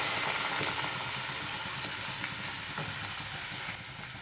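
Coconut milk goes into a simmering Kerala-style egg curry in a pan, raising a steady close sizzling hiss with faint stirring texture throughout, alone without talk.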